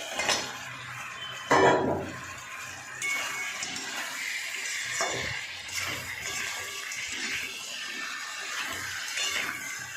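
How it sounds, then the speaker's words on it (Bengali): Fish braises in a pan while a utensil scrapes and clinks against the metal at irregular intervals. Soft sizzling runs underneath, with one louder clatter near the start and no speech. "আমি এবার মাছগুলো দিয়ে ভালো করে কষিয়ে নেব"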